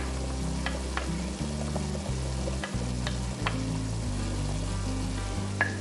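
Chopped carrot sizzles with browned ground meat in a pan as it is stirred, a steady close frying hiss with occasional light scrapes and clicks of a utensil, no voices.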